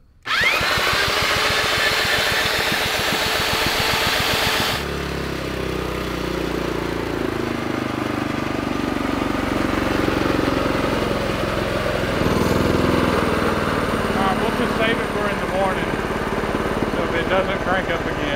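Small engine of a salvaged mini bike starting up and running rough, a loud buzzing putter that drops and wavers as it struggles to idle, with people talking over it.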